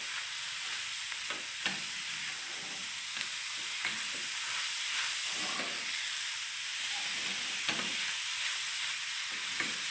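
Grated carrot for farofa fries in a pan with a steady, bright sizzle and hiss, while a utensil scrapes and stirs at irregular intervals close by.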